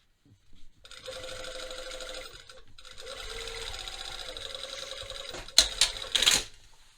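A sewing machine stitches the yoke onto the back of a pair of jeans in two steady buzzing runs of rapid stitching, close and alone, followed by a couple of sharp clicks and a short whir.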